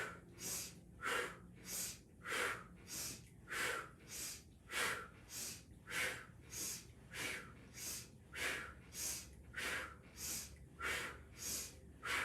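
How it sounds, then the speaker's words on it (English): Slow, deep breathing during a twisting stretch, with around a dozen regular inhale and exhale cycles, airy and close, each breath swelling and fading in a steady rhythm and no talking. "we're gonna inhale to the left and exhale to the right"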